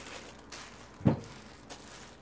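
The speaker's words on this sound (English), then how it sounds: "You can hear a clomp magnet clicking on there." A magnetic glove holder with four rubber-coated magnets snaps onto metal, giving one short, dull click in an otherwise quiet room.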